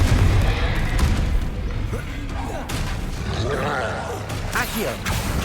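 Booming blasts from the Confringo fire spell in Hogwarts Legacy, with heavy low-end thuds, crackling debris and clattering combat effects in quick succession and no talk.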